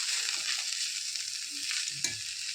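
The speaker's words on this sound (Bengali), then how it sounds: "এখানে হচ্ছে লাউয়ের চোচা ভাজা করছি" Bottle gourd peels frying with onion in a pan give a steady, fairly quiet sizzle with a brief clatter near the end.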